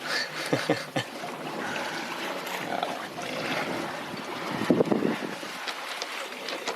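Sailboat under way on the open ocean near Langkawi, with continuous wind buffeting the microphone and water washing along the hull, a broad steady rush with a few sharper gusts and splashes.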